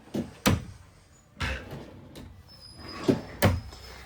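Kitchen drawers in a 2026 Keystone Cougar 25FKD front-kitchen travel trailer are pulled open and pushed shut, giving several close, sharp knocks and slides in uneven pairs with quiet gaps between them.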